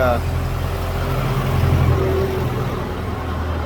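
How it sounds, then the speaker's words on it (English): A truck and a tractor passing together on a road: a steady low engine rumble with mid-range motor drone holding across the span, fairly loud and close, with no voices. "We got a truck and a tractor drive by at the same time."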